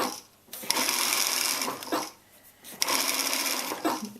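A sewing machine runs in two sustained bursts stitching thin fabric into spaghetti straps, its rapid needle clatter loud and close, with a short pause between runs.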